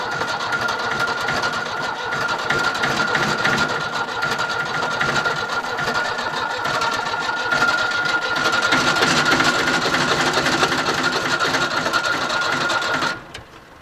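An old Yanmar YB1200SS backhoe engine runs with a steady, dense mechanical clatter, loud and continuous throughout, before cutting off abruptly at the very end.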